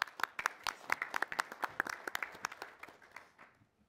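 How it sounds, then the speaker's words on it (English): Applause at a City of Casey council meeting, a modest group clapping in a quick patter that starts fairly close and thins out, fading to a few scattered claps and stopping. "Big round of applause, please."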